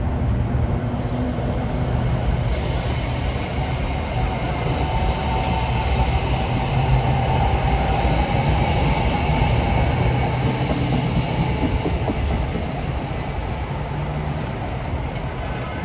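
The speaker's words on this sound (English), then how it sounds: "we have a set of Arrow MUs for Gladstone" NJ Transit Arrow multiple-unit electric train bound for Gladstone, rolling steadily past with a continuous loud rumble of wheels and motors, faint squeal at moments, sustained throughout with no talk.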